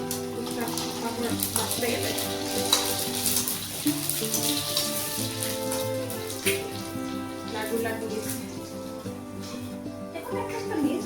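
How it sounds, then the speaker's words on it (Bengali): White papad fry three at a time in a little oil in a home kitchen, a continuous close crackling sizzle with faint clinks and background household noise. "সাদা পাপড়টাই ভাজলাম তিনটে তিনটে করে আর খুব বেশি ফুলে কিন্তু আমি কম তেল দিয়ে ভাজা করলাম"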